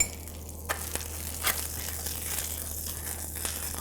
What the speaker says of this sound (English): You can hear the onions cooking nice.